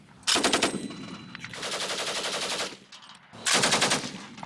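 A remotely operated Shablya machine gun module fires at a test range, three loud rapid bursts of automatic fire, the middle one longest, separated by short gaps.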